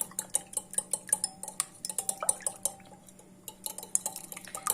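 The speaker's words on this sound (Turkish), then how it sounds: "Şöyle 3 adet yumurtamız var. Çırpalım." Quick, rhythmic clinking of a fork or whisk beating three eggs against a bowl, close by, with a short pause midway.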